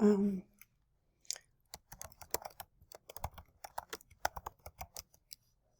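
Typing on a computer keyboard: a quick, irregular run of light key clicks close by, following a brief voice at the start.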